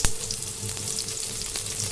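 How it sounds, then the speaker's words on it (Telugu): Mustard seeds, cumin, dried red chillies and garlic crackle and sizzle in hot oil, a continuous frying hiss with a sharp pop at the start. "నూనె పోసుకొని ఆవాలు జీలకర్ర వేసుకొని ఎండుమిరపకాయలు వెల్లుల్లిపాయలు వేసుకోవాలి"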